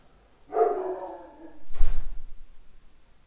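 One short, fairly loud dog bark rings out nearby, and right after it comes a dull thump like a door banging, which then dies away into quiet.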